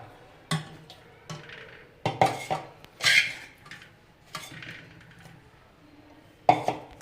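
Onion pachadi ingredients being tipped into a mixie jar, with several distinct clattering knocks and scrapes of food and utensils against the jar at irregular intervals, close and fairly loud.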